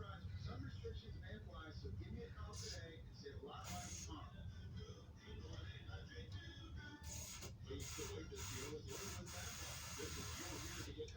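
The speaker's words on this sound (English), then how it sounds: "You spray this stuff in there really good." Fluid Film rust inhibitor sprayed from an aerosol can into a vehicle's underside, giving several short hissing bursts over a steady low background rumble.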